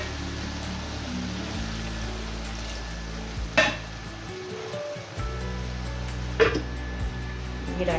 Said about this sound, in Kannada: ಸ್ವಲ್ಪ ನೀರು ಹಾಕೋಣ.